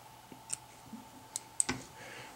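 Small scissors snip the legs of a tied Shot Glass Baetis fly: a few quick, crisp clicks spaced irregularly, close and quiet with no talking.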